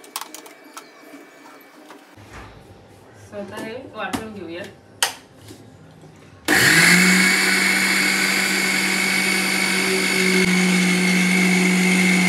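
A mixer grinder grinds roasted, cooled oats into flour, bursting on abruptly as a loud, steady whir with a rough grinding edge that runs to the end, after a quieter stretch of kitchen handling sounds and a brief voice.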